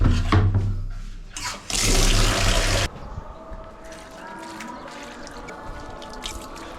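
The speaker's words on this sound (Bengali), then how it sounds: "আমি এখন এই গাছগুলোতে পানি দিয়ে নেবো" Plants being watered by hand, with a loud splashing pour of water for about three seconds that then drops to a softer, steady trickle and light drips.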